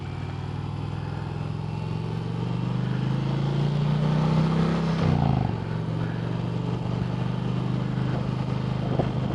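A 2020 Indian Challenger Darkhorse motorcycle rides on the road, its engine drone rising in pitch as it accelerates, dipping briefly at a gear change, then settling into a steady cruise with wind noise.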